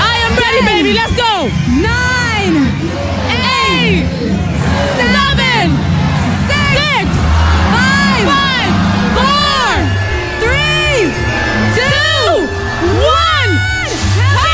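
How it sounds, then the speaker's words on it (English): A packed nightclub crowd on New Year's Eve cheers, whoops and screams continuously and loudly, with many overlapping high shouts and whistles over a thumping dance beat. "All the people of Radius, let me hear you guys scream."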